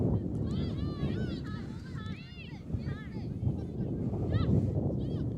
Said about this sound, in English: it's definitely windy out here